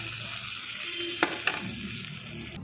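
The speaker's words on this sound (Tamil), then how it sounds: "சட்னியில் இதை தாளிக்கிறோம்" Spices and curry leaves sizzle and crackle steadily in hot oil for tempering peanut onion chutney, with a couple of brief sharp pops near the middle.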